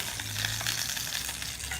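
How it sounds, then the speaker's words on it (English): Batter frying in hot coconut oil in a frying pan gives a steady, close, dense sizzle that holds evenly throughout with no talking. "In my frying pan, I'm gonna add some coconut oil. That's gonna be what we cook this bad boy in."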